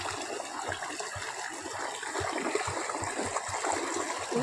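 Water flowing across a flooded yard, a continuous soft gurgling and trickling rush heard alone at low level, with faint irregular low thumps throughout.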